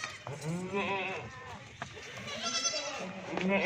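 Goats on a livestock sale farm, including a doe with kids, bleat several times close by, with someone talking over them.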